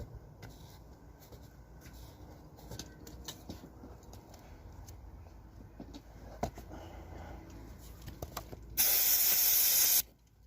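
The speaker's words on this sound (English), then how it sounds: "And then spray the brake linings." A loud hiss of aerosol spray onto the brake linings of a Tomos AT50 moped, lasting about a second near the end, after quiet workshop shuffling and small knocks.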